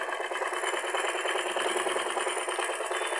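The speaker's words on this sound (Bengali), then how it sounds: "তো দেখেন আমাদের কিন্তু অনেক সুন্দর সেলাই হচ্ছে।" A sewing machine stitches steadily, its rapid even mechanical whir and clatter running without pause.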